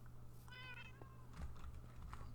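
Cats meowing in the block-building game Minecraft, a clear tonal meow followed by softer chirps and mews, faint and heard over a low steady hum with no talk.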